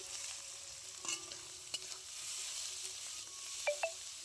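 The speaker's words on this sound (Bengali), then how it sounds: "এবার আমি চিংড়ি মাছগুলো দিয়ে দিচ্ছি," Shrimp dropped into hot mustard oil with turmeric give off a faint, steady sizzle, broken by a few sharp utensil clinks near the start and end.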